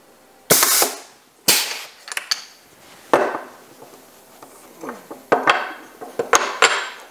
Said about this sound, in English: take it to the injection molding machine and actually give it a try and see how it turns out in the machine